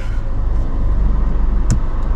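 A rented car drives along a Canadian road, heard from inside as a steady, loud engine and road rumble with one brief sharp click partway through.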